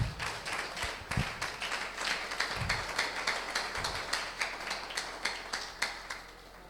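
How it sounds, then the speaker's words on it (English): An audience at an entrepreneurship workshop seminar claps for its guests, a faint, fairly distant applause with a steady, almost rhythmic pattern of hand claps throughout. "please celebrate all our guests in a clap"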